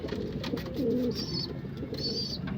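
Pigeons cooing, including Andalusian and racing birds in a loft, giving soft, steady coos with a few brief higher calls, close by.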